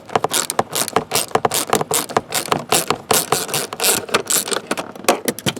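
A ratchet works loose a bolt from the hood cable bracket of a GM W-body car, producing close, rapid rhythmic clicking bursts in quick succession throughout.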